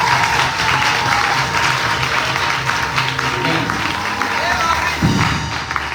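A church congregation at a French-language prayer service applauds for the prophet Michel, dense sustained clapping from a large crowd filling the room, with a few voices and thumps mixed in.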